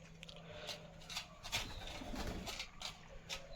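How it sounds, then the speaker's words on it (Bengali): Pigeons cooing nearby in a soft, repeated rhythm, with faint fluttering and pattering from the birds gathering to feed outdoors. "পায়রাগুলো একে একে একে আসবে আর খেয়ে খেয়ে চলে যাবে"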